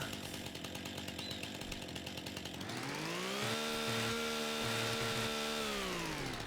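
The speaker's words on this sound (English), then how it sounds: "Now we're going to take a chainsaw, please." Chainsaw cutting in the video game Farming Simulator 25: a loud, continuous motor drone that rises to a higher, steady whine as the saw revs up partway through and holds at full speed to the end.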